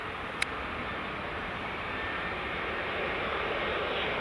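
An EasyJet airliner on Edinburgh Airport's runway 24 makes a steady, broad jet roar that holds level and swells slightly, with one sharp click near the start.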